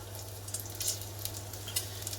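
Lardons sizzle steadily in a frying pan, a soft continuous crackle with scattered pops and a low hum beneath, fairly quiet and with no talking.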